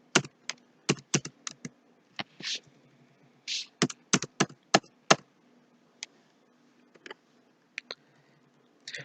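Keys tapped on a computer keyboard while entering data into accounting software, with close, crisp clicks in quick clusters, then sparser single presses spaced apart toward the end, with no talk.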